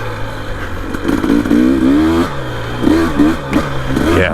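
A 2025 Husqvarna TE300 Heritage Edition two-stroke dirt bike fitted with an FMF Fatty pipe revs hard and close, rising and falling in pitch with a few quick throttle blips, loud and steady with no talk.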